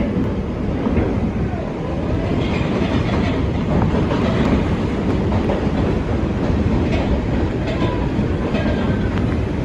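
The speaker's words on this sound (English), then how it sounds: "This is a Manhattan-bound 4 train." An NYC Subway 4 express train runs at speed, a loud continuous roar with rhythmic clickety-clack of wheels over rail joints, heard from inside the car.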